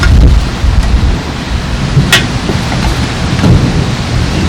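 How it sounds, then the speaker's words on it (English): Wind blows steadily outdoors with light rain pattering throughout, a low rumbling gust layer beneath scattered drops, around a Dutch oven pork roast dinner cooking outside. "We still got a little wind, still sprinkling"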